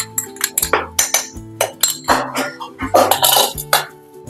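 Ghee-fried cashews and raisins tipped into a pot of sago vermicelli milk payasam, a quick string of close, loud metallic clinks and clanks as a spoon knocks against the pan, with soft sizzling between the hits.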